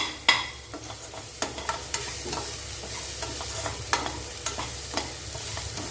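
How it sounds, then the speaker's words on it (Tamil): Bitter gourd pieces stir-fry in a pan for a sweet bitter gourd fry, a close, continuous sizzle punctuated by repeated clicks and scrapes of the spatula at an irregular stirring rhythm. "நல்லா இப்படியே கொஞ்சம் நேரத்துக்கு வதக்கி கொடுத்துட்டுங்க"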